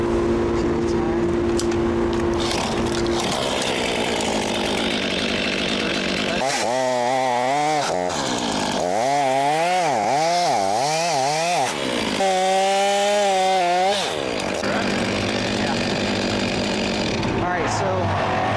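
A chainsaw cutting through a fallen tree in a tree-removal job near a house with a mobile crane, engine revving up and down in bursts as it bites into the wood, loud and close, with talk heard around it.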